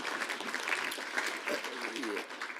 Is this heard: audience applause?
yes